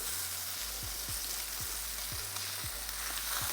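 Flipped chicken pieces for Cajun chicken pasta fry in a pan with a steady, close sizzle, marked by a few faint clicks of a utensil moving them around, no talking.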